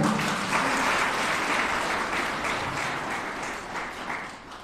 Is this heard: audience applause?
yes